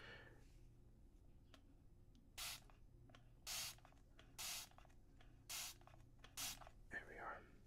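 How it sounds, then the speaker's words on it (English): Spray bottle spritzing facial mist in close, quiet surroundings, giving five short, evenly spaced hissing bursts about one second apart, with faint soft handling between. "Another spritz."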